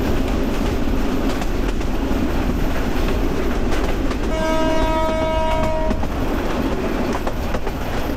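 A Dinajpur commuter train on a rural line rolls steadily through rows of trees, with constant wheel and carriage rumble throughout and a sustained horn blast sounding midway.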